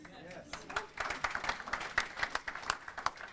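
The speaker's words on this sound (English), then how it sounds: "What was that a round of applause for Fred?" An audience at a local crypto expert panel gives a round of applause: a burst of many hands clapping in a dense, irregular patter, moderately loud and lasting a few seconds, with talk mixed in.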